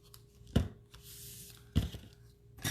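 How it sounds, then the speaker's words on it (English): Scissors snip through ribbon during a card-making craft session, giving three short, crisp cuts spaced about a second apart, close and fairly quiet, with no talking. "let's trim our ribbon"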